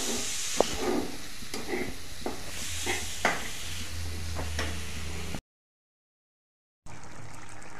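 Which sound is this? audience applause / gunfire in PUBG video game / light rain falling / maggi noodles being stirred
maggi noodles being stirred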